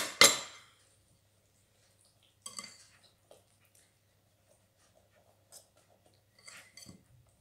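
Pre-cut toppings are stirred together in a bowl, giving sparse, faint clinks and soft scrapes of a utensil separated by long quiet gaps, with one sharper knock at the start.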